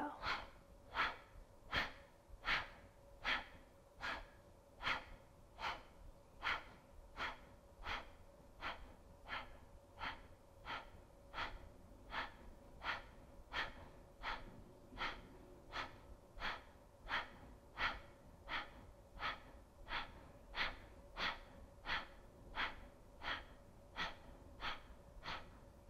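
Rapid, steady breathwork from a balancing breathing exercise: about thirty forceful, evenly spaced breaths over the span, close and clear, each a sharp airy puff with a faint steady tone beneath.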